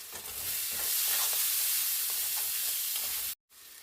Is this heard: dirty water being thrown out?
no